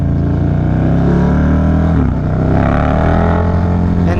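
A motorcycle engine runs strong and steady at around 3,000 RPM on a road trip after its dirty air filter was cleaned, a loud, continuous close-up drone with a brief dip midway.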